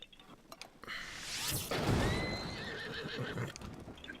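Horse in the video game Zelda: Breath of the Wild, a loud close whinny with a rising and falling squeal, over shuffling hoof clops and game noise.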